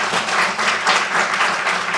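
Sustained applause from an audience at a karate athletes' awards ceremony, dense and steady throughout the short burst with no voices standing out.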